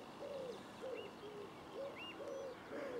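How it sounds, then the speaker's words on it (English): Birdsong on the Blakeney marshes in Norfolk, with repeated soft coos and short chirping calls at a moderate distance over faint outdoor ambience, in an irregular rhythm. "Birdsong everywhere."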